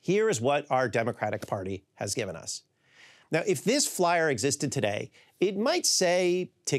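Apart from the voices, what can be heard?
No everyday noises stand out.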